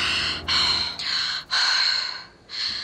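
A female character in the sci-fi game Prey gasps and breathes heavily, a series of loud, close, breathy inhales and exhales in an uneven rhythm.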